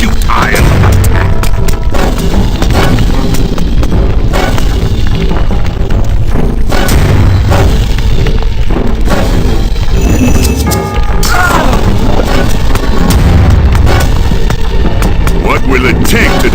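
Repeated heavy wooden thuds and crashes from a battering ram pounding a wall in the strategy game Age of Mythology, loud and dense beneath constant battle clamor, with voices speaking over the din.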